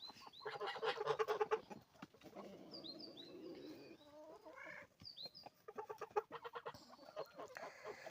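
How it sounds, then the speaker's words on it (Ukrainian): On a small farmyard, a rooster chases the other chickens, setting off a flurry of clucks, squawks and sharp calls from the flock, near and fairly faint, in uneven bursts with short quieter gaps. "Півню всіх вигонить, обігає."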